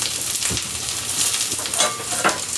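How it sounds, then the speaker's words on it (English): Korean pancake batter sizzles and crackles steadily in a hot pan, a close, busy frying hiss with small pops throughout. "we're gonna let that get really crispy and fry"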